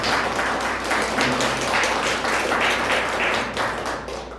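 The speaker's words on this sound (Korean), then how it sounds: "박수로 환영합니다" A church congregation in Mexico applauds to welcome a guest, a mother introduced to them, with fairly steady clapping for about four seconds that eases off at the end.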